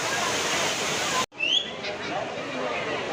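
Water rushes over Kodiveri Dam on the Bhavani River in a loud, steady broadband roar. The sound cuts out for a split second and then returns just as strongly, with a few faint higher chirps above it.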